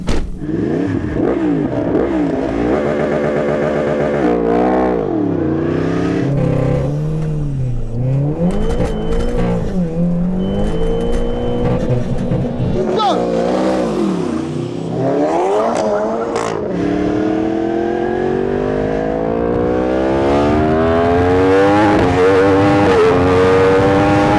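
Loud engines roar and rev continuously, pitch sweeping up and down as a Cupra car and a Yamaha R1 superbike accelerate hard, shifting gears throughout.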